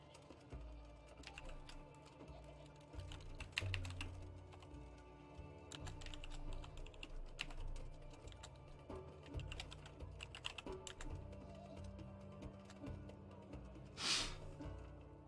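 A dice-roll command for a Dungeons & Dragons game is typed on a computer keyboard, with soft scattered keystrokes and brief bursts of clicking spread over a quiet stretch.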